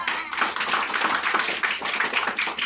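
A group of tribal students in a village claps together in a quick, steady burst of applause, fairly close and continuous throughout.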